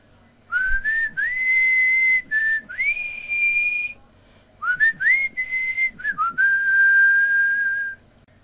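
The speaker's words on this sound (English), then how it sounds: "And with his iconic whistle, Proto Man enters the scene like a boss" Proto Man's signature whistle tune from Mega Man plays as two clear whistled phrases of rising, held notes, separated by a short pause, with no talking.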